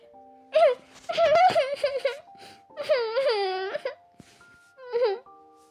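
Video game children wail and sob in drawn-out, high, wavering cries, close and loud, over faint steady electronic tones.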